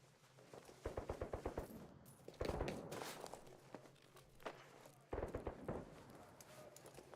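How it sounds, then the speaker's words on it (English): Suppressed Saiga shotgun fire in Arena Breakout Infinite, rapid muffled bursts of repeated shots in two clusters, loud and near against busy in-game background noise. "Suppressed Saiga? Did I hear that right?"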